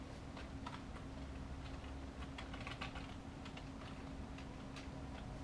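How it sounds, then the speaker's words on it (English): Keys tapped on a computer keyboard while a drug name is entered into a search field, a quiet, irregular run of light clicks over a steady low hum, with no voices. "Okay, so I typed in propranolol."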